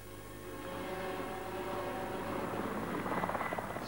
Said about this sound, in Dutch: Van vliegvelden zoals dit hier vertrokken helikopterpiloten om de strijd aan te binden.